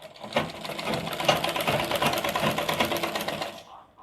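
A sewing machine stitching the lining of a blouse runs in one steady, close, rapid mechanical rattle for about three and a half seconds before stopping.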